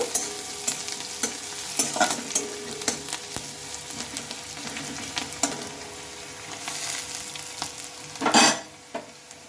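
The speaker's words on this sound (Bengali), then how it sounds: "এবার এটা একটু ভালোভাবে নেড়ে চেড়ে তুলতে হবে এইভাবে কিছুক্ষণ ভালোভাবে নেড়ে ছেড়ে নেব" Onions sizzle in a frying pan with green chilli while a spatula stirs them in steady scraping strokes, ending in a louder burst of sizzle near the end; no voices.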